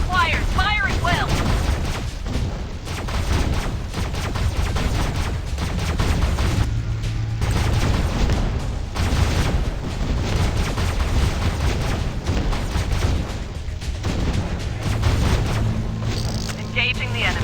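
Dense, continuous gunfire and repeated explosion booms from the mobile shooter Last Z: Survival Shooter, loud and close throughout, with game voice lines heard over the battle.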